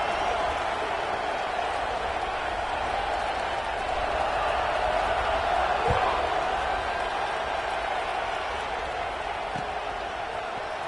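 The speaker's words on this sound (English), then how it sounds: "this crowd is buzzing after that last score" A college football stadium crowd at a Miami versus Florida State game keeps up a steady, dense roar across the whole stretch, with a couple of brief thumps cutting through the wash of voices.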